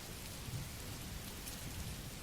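Steady rain falls throughout, a dense even hiss with a low rumble underneath and no voices.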